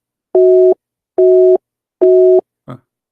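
A phone line busy signal sounds three loud, evenly spaced tone beeps, clean and close, followed by a brief click.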